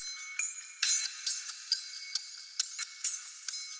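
Drum layer run through a ShaperBox phaser noise rhythm preset with flanger, reverb and the lows and mids EQ'd out, giving thin, airy, high-pitched rhythmic taps that pulse quietly in a steady pattern.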